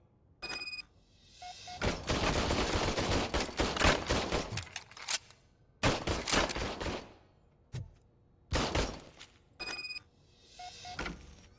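Several bursts of gunfire from an old, hand-serviced police service pistol in the game RoboCop: Rogue City, loud close shots clustered into sharp volleys with short gaps and faint electronic beeps between them.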